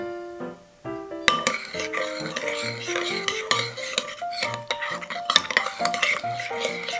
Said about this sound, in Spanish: Mezclamos bien y dejamos reposar hasta obtener una mezcla espumosa.